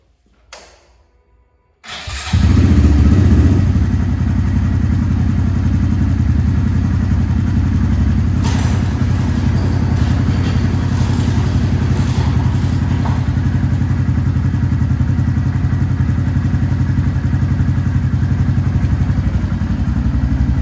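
A Honda Grom motorcycle engine cranks and fires after a quiet moment with a few clicks, then settles into a steady, loud, close idle that runs unbroken to the end.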